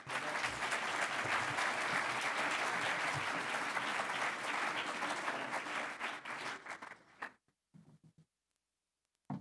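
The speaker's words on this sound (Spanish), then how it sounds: "Les pido un fuerte aplauso para darle la bienvenida." A conference audience at a technology festival inauguration gives a strong welcoming round of applause, dense sustained clapping that thins into scattered claps and then stops, leaving near silence.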